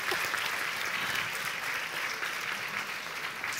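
An audience at a French aeronautics and space round table breaks into steady, dense applause, a continuous wash of clapping with no talk over it.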